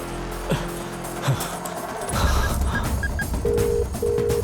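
A telephone being dialed, a few short electronic keypad beeps and two longer tones near the end, heard close over a low rumble and muffled movement.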